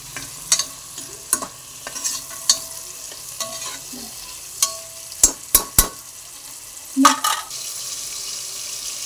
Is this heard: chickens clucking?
no